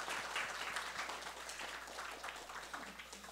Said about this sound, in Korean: 우리 하나님께 영광의 박수를 다시 한번 돌려드립시다